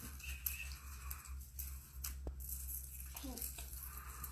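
Scissors snip in an art class, a few crisp cuts and rustles over a low steady hum, fairly close and moderately quiet.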